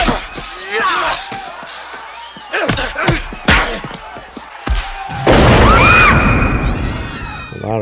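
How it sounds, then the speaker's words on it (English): A gunshot inside a building in a 1989 film, a sudden, extremely loud blast bursting out among sharp thuds and scuffling from a fight, followed by ringing, echoing decay. "The loudest gunshot in history."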